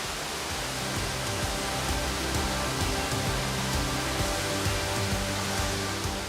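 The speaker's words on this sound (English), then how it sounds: "And to add to the waterfall, some North Coast sleet." Cranny Falls on Northern Ireland's North Coast pours as a dense, steady roar of falling water with sleet coming down, a loud broadband hiss throughout and no voices.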